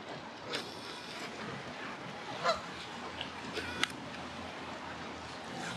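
A flock of geese gathered on a road in rainy weather in Canada, honking and calling in several scattered bursts over a steady rumble of rain and traffic, moderately distant.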